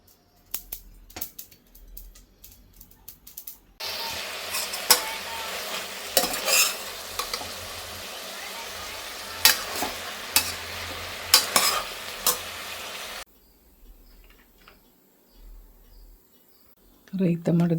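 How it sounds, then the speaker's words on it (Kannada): Spices and vegetables for pulao sizzle in a pan as they are stirred, a steady frying hiss with repeated scraping clinks from the spoon, preceded and followed by quieter stretches with some talking. "ಸೊ ಇವಾಗ ಒಗ್ಗರಣೆಗೆ ಹಾಕಿ ತರಕಾರಿ ಎಲ್ಲ ಹಾಕಿ ಪಲಾವ್ ಮಾಡುವ"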